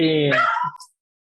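A dog gives one close, whining yelp that trails off within a second, followed by a brief softer sound, while dogs run past during an online municipal planning webinar.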